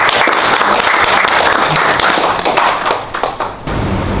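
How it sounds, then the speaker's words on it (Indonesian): A crowd applauds at a formal government ceremony, a dense burst of clapping that fills the room and then tapers off near the end. "Mari kita beri aplaus"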